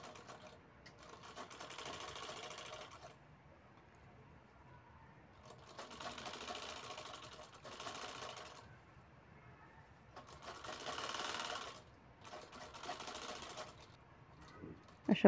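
A sewing machine stitches piping onto a patchwork bag made from fabric scraps, running in three separate bursts of rapid mechanical whirring with quiet pauses between them, fairly close and moderately soft.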